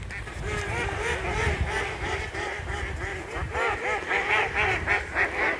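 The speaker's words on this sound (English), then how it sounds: "I think I annoyed the ducks." Ducks quack repeatedly in a noisy outdoor chorus at a sunny castle estate park, with dense overlapping calls rising and falling over steady background noise, fairly close and loud.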